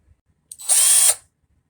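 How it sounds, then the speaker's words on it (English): Power drill driving a screw through drywall into a ceiling, one short whirring burst of about half a second, loud and close, with quiet room sound before and after. "Screwing in another piece of drywall to the ceiling"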